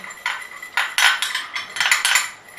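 A spoon stirs milk and curd in a bowl, giving a run of close, bright clinks and scrapes in uneven bursts with no talking.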